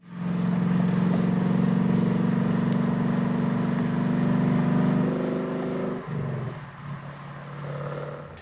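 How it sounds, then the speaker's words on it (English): A Ford Mustang V8 holds a loud, close, deep rumble for about six seconds, then the note dips and settles into a lower, uneven idle. "listen to this glorious rumble. I mean, Mr. Editor will put some V8 goodness in there."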